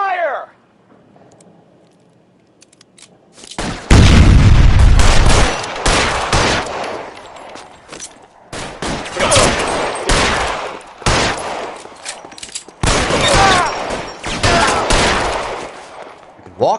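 Sustained covering gunfire in a PS4 shooter game: heavy automatic bursts in long rattling volleys after a quiet opening, with brief pauses between strings of shots and voices talking over parts of it.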